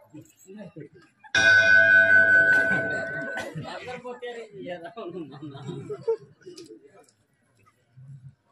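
A temple bell is struck once and rings out loudly with a long fading tone, followed by people talking and chuckling.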